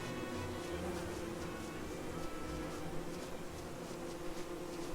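A steady, dense buzzing of bees swarms continuously in the Don't Starve video game, a droning insect hum filling the whole stretch at moderate volume with no talking.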